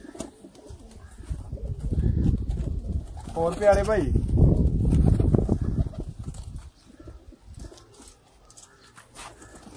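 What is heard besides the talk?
Sialkoti rooftop pigeons cooing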